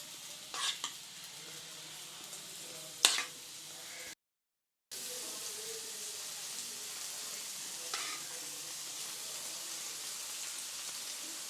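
Egg masala dosa batter frying on a hot griddle gives a steady soft sizzle throughout, broken by a few sharp scraping or stirring clicks near the start and one later, with no talking.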